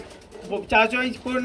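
Soft pigeon coos from a male bird rise and repeat close by, low and throaty, with a faint murmur in the background at a pigeon sale.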